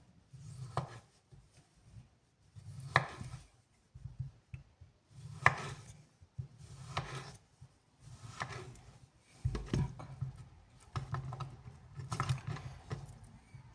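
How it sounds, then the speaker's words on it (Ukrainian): A knife chops beetroot into thin, even strips on a board for a healthy salad: a close, uneven run of short thuds and soft scraping strokes with small pauses between, no talking. "нарізаємо такими стюжечками, не товстими"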